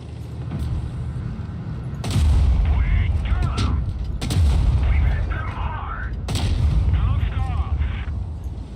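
Tank cannon shots in World of Tanks Blitz, including an enemy 183 firing: three loud booming blasts spaced about two seconds apart over a steady low rumble, with someone talking intermittently between them.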